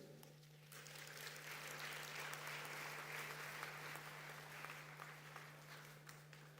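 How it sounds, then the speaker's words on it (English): Audience applause at a climate summit after a speech, a sustained wash of distant clapping over a constant low hum, swelling after the first second and holding steady. "Another round of applause for President Bayo."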